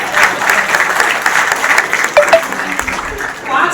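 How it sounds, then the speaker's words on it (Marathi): Audience applause at a student felicitation ceremony for a coaching class, a dense, steady wash of clapping from a sizeable crowd filling the room, with a few brief voices rising over it partway through. "तुमच्यासाठी एकदा टाळ्या वाजवा"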